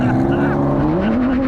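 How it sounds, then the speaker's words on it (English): A V6 car with a titanium exhaust system gives a steady, resonant exhaust drone that rises slightly in pitch near the end, with a voice talking over it throughout. "Gives it a very exotic exhaust note."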